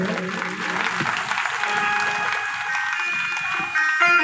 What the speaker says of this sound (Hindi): सभी जो है ताली बजाकर जोरदार एक बार स्वागत करें